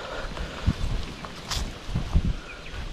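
Strong gusty wind in Australia rumbles against the microphone in low bursts, with a brief hiss of air partway through; no one speaks.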